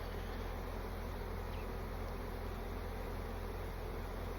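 Honeybees from a recovered swarm hum inside a full nucleus hive, a steady, dense buzzing drone that holds unbroken throughout, fairly close and with no voices.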